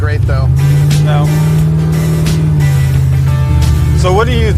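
A car with a blown 489 cubic inch Impala engine drives with a loud, steady low drone and no letup. People talk over it throughout.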